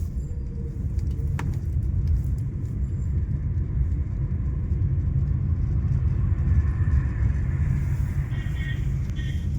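Cars and heavier vehicles move along a foggy road in Delhi NCR, making a continuous low rumble of passing traffic with a faint higher tone late on. No clear voices are heard.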